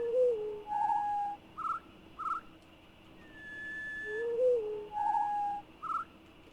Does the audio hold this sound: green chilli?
no